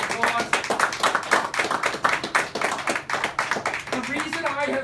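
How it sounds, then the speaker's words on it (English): Audience clapping for a military veteran at a political meet-and-greet, a dense run of hand claps sustained through the whole stretch, with a voice rising briefly near the end. "Let's give him a round of applause."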